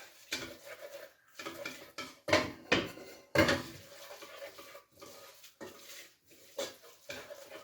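Flour being cooked off in a pan on a home stove's back ring, with a utensil stirring and scraping against the pan in irregular clinks and scrapes, near and moderately loud, with no talking.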